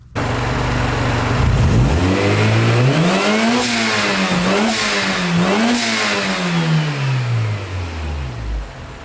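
A car engine revs up and down repeatedly, loud and close, its pitch rising and falling in several sweeps.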